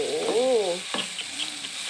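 Pork stir-fried with fermented soybean in a pan, a brief warbling tone at the start, then soft sizzling and scraping stirs, close and unaccompanied.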